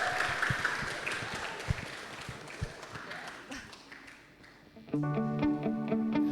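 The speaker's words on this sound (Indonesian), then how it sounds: "Kita mau tepuk tangan paling meriah untuk Tuhan Yesus." A church congregation applauds at a Sunday worship service, dense clapping mixed with voices that fades and then gives way to loud sustained music.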